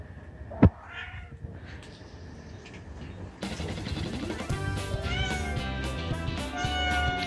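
A cat gives a short, loud meow near the start, followed by quieter background sounds and then a busier, layered stretch of noise with no talk.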